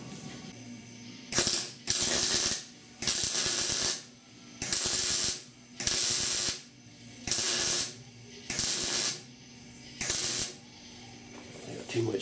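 Plug welds being laid on the rust-repaired cowl of a 1969 Chevy C10 pickup, heard as seven evenly spaced crackling bursts, each under a second long, separated by short quiet gaps.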